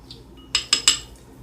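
Strawberry DNA extraction mixture stirred in a container for a science lab, giving three quick, close metallic clinks in a row against otherwise quiet room tone.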